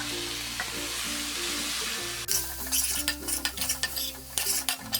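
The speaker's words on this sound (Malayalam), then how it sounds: "നല്ലതുപോലെ ഇതൊന്ന് ഇളക്കി യോജിപ്പിച്ചെടുക്കാം" Fresh cream is stirred into paneer shahi korma in a pan: a steady low hum and sizzle at first, then quick spoon strokes clinking and scraping against the pan over the bubbling.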